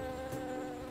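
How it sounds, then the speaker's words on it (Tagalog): A bee buzzes past in a brief, steady insect drone, close and fairly clear, with no voices over it. "Si Biboy Bubuyog ay napadaan."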